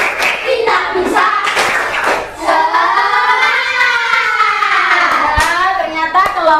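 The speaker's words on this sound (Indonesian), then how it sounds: "Oke, tepuk semangat sekali lagi ya untuk menentukan siapa yang akan maju." Schoolchildren in an elementary classroom do a rhythmic spirit clap, quick bursts of hand claps alternating with group chanting voices and a teacher speaking, close and lively.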